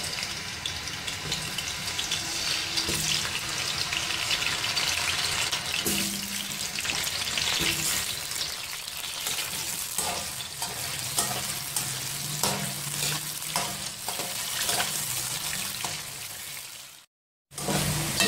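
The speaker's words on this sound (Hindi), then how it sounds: "अब मैं इसमें डालूँगी आलू और इनको मैं करूँगी फ्राई।" Large potato cubes fry in hot oil in a kadai, giving a loud, steady, close sizzle with occasional stirring clatter. It runs almost unbroken, with only a brief drop near the end and no talking.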